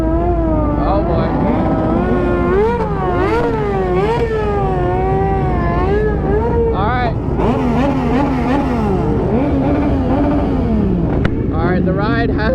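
A group of motorcycles, including two-stroke bikes, sets off on a Florida winter ride. Engines rev and whine, rising and falling with passing bikes close by, while riders talk.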